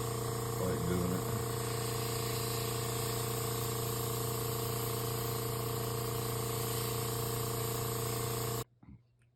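An airbrush sprays while being flushed of paint, a continuous close hiss with a faint mechanical hum under it, running steadily before cutting off abruptly near the end.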